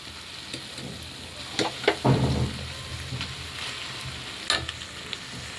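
Cooked rice hits a hot pan with garlic and egg for fried rice, giving a close, steady sizzle broken by a few louder stirring scrapes and clatters, with no talking.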